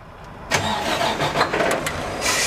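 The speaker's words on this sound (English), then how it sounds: "For example, I'm going to start the engine." A truck with a Detroit DT12 transmission that has a clutch fault starts up: a brief crank bursts into a loud engine catch that settles into a rough, uneven idle close by, with no speech.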